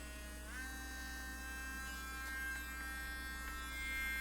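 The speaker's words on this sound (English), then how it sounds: "Got my Dremel." A Dremel rotary tool whines steadily while drilling into copper for beadwork, its pitch rising sharply as it spins up in the first half second, then holding a near, continuous high buzz with a faint mains hum underneath.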